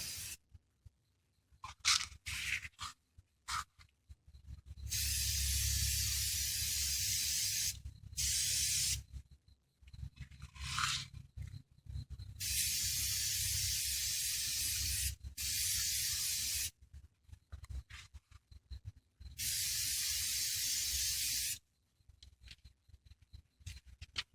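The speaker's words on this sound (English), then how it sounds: "real quick spray paint job, nothing spectacular." An aerosol spray paint can hisses in several long, loud bursts separated by short pauses and faint clicks, close by and with no one talking.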